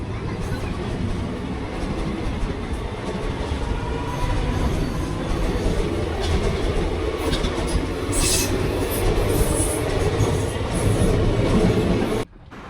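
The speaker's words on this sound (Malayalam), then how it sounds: "നമ്മുടെ ട്രെയിൻ തിരൂരിൽ നിന്ന് എടുത്തിട്ടുണ്ട്." A passenger train rolls out of Tirur railway station in Kerala, a loud, continuous rumble of wheels and carriages heard from on board, with a brief squeal near the end and no clear speech.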